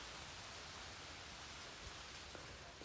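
Steady, dense hiss of rain falling on a farm field during millet sowing, a continuous even wash with no voices and no breaks.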